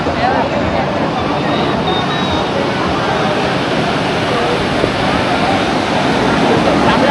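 Sea waves wash steadily onto Candolim beach in Goa, a broad continuous roar of surf with breezy wind noise and faint crowd babble mixed in, no distinct individual breakers standing out.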